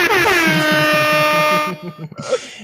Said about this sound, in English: Air horn for me as well, man.